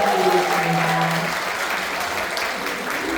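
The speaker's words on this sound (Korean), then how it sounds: "여러분 큰 박수" An audience at a political lecture breaks into loud, steady applause, many hands clapping together with a brief voice at the start.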